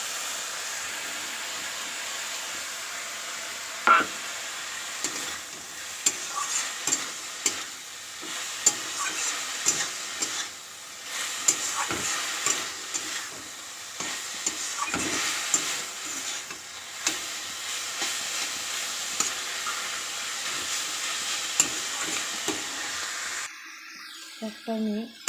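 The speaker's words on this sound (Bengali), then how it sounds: "শাকটা আমি নেড়েছি, নেড়ে এই হয়েছে। দেখুন একটু ভাজা করেছি।" Greens stir-fried with shrimp in a pan give a soft continuous sizzle broken by frequent scraping and tapping of the spatula, with a person talking over the cooking at times.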